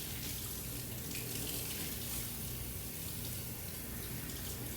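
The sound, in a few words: water running from tap, rinsing fish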